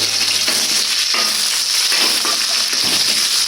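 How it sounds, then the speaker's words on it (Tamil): Oil sizzling steadily in a pan as ingredients fry until golden for tin fish gravy, a continuous close hiss with a few faint stirring clicks and scrapes. "இப்போ இது பொரிஞ்சுட்டு இருக்கிற"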